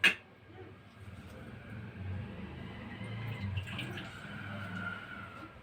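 Water runs and splashes faintly and steadily while a conch shell is washed and refilled during a home puja routine, with a soft clatter near the start.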